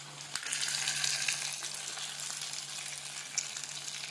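Egg frying in a hot pan, a steady, close hiss and crackle of sizzling oil with small pops, continuous for a few seconds with no talk.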